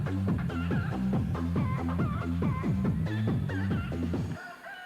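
Chicken-like crowing and clucking blares loudly over a dense, constant low hum at a Kentucky high school boys basketball tournament game, a repeated rhythmic fowl call running steadily for several seconds before cutting off abruptly.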